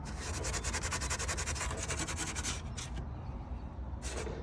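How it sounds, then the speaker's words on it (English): Corvette C6 interior trim being scuffed before painting, with steady, close rapid rubbing strokes of abrasive across plastic, continuous and rasping, then briefly pausing and resuming near the end, with no talking. "Make sure you guys scuff inside here, all the little cracks,"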